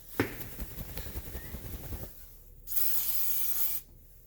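Close scuffing and handling noises give way to a steady hiss lasting about a second as white lithium grease aerosol is sprayed onto a Subaru Outback center driveshaft, then the spray cuts off.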